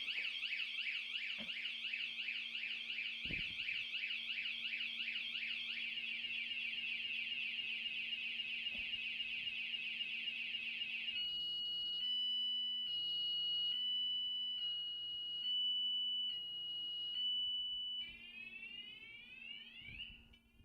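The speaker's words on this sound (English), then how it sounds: "the alarm is on the PX1" A PX1 device alarm sounds on its own, close and loud, first as a steady warbling electronic siren and then as a string of rhythmic pulsed beeps, with no talking.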